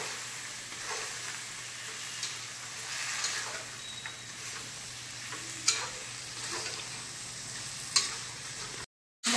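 Flat beans, potato and radish stir-fry with paneer and spices in a pan, a steady close sizzle broken by spatula scrapes and taps, then a sudden short silence near the end.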